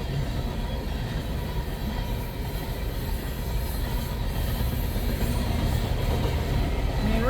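CN freight train 788 passes near Ladysmith, Wisconsin, a steady, rumbling roll of railcars at moderate distance, continuous for the whole stretch.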